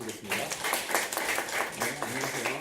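Listeners clap to welcome a speaker to a lecture on digital communication, a moderate scatter of hands heard with voices speaking over it.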